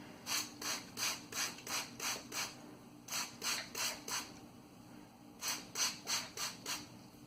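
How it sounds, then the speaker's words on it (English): A trigger spray bottle misting water onto curly hair, quick sharp hissing squirts in groups of several with short pauses between, close and fairly soft. "how much water I'm actually spraying on here"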